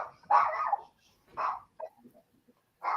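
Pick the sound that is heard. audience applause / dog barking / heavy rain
dog barking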